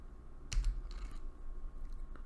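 Keystrokes on a computer keyboard while typing a spreadsheet name in Excel, a quiet room with one distinct click followed by a few faint, scattered taps.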